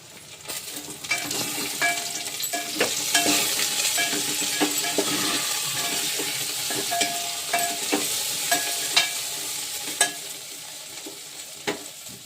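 Vegetables sizzle and fry in a pan in a small home kitchen, a steady hiss broken by scattered clinks and scrapes of a spoon stirring against the metal, close up without speech.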